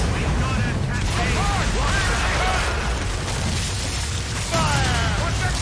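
Ship cannons booming in the naval combat of Assassin's Creed Rogue, a dense fusillade of bursts and rumbling blasts layered under shouted crew voices and game music.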